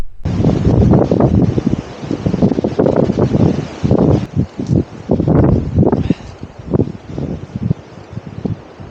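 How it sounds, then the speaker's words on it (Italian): Strong gusty wind buffets the microphone on a mountain trail near Alpe Mut in Val Grande, in loud, uneven roaring bursts, rising and falling throughout with no voices. "Quanto vento tira oggi, pazzesco."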